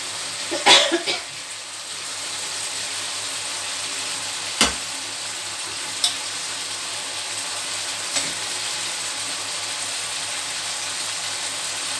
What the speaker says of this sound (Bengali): মশলাটা দিয়ে পটলগুলো একটু কষে নিচ্ছি